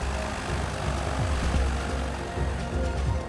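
A chartered propeller plane flies past, its engine drone steady and fairly loud with low throbbing pulses, no voices.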